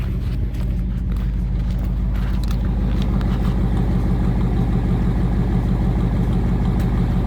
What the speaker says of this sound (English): I'll give you a little exhaust sound here